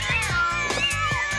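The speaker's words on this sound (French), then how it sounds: "J'ai horreur des chats, je les déteste." A cat meows several times in quick succession, close and fairly loud, with cartoon-style voices and music nearby.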